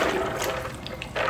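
Water poured into a bowl of beans set to soak for koose or akara, a steady close splashing fill lasting a moment with no talk.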